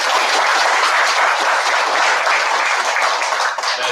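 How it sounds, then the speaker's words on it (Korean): Dense, loud applause from an audience at a church outdoor worship gathering, continuous and sustained for several seconds. "그러면 감사의 박수를 한번."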